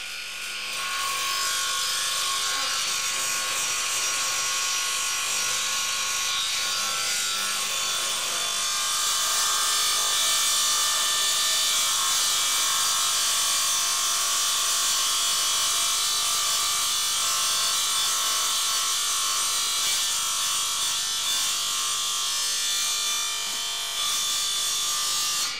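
A DeWALT 720 radial arm saw cuts through wood with a steady, loud, high-pitched rasping whine that holds evenly for the whole stretch, close by and with no talking.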